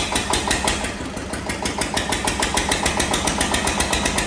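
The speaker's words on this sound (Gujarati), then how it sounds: "આજે તો મશીન ચાલુ કરવું હે" A farm tractor's engine runs in a steady, loud, close rhythmic chug, with evenly spaced knocking pulses throughout and no talk.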